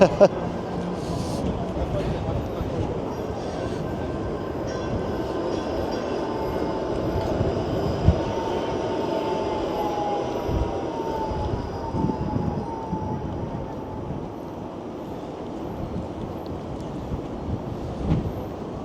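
A Toronto streetcar rumbles along King Street at rush hour, its wheels squealing faintly over steady city traffic noise. The passing lasts a long stretch, mid-distance and continuous, while a person talks now and then.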